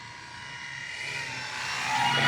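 An E-flite Beechcraft D18 1.5 m RC model plane comes in to land with flaps down, its electric motors giving a steady whine that swells louder and nearer toward the end, heard from outdoors.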